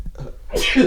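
A single sharp sneeze, close and loud, bursting out in under a second with a short breathy lead-in.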